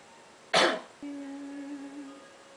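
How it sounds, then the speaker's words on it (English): A single short, sharp cough, followed by a brief hum in the background. "I had to cough because there was saliva"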